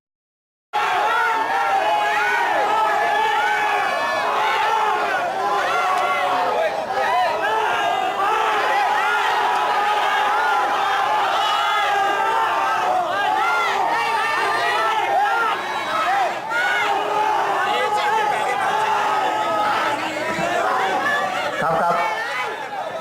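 Football crowd in a stadium during a Toyota League Cup match, a steady wall of chatter, shouting and cheering from many fans, loud and continuous throughout.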